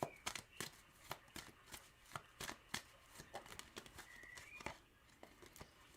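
Rapid riffling and slapping of playing cards being shuffled, a steady run of crisp taps, quiet and close, with a faint chirp in the background.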